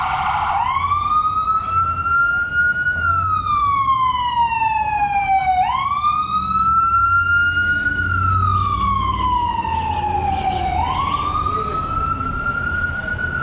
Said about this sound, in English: there is police or ambulance, but there are sirens every time when you walk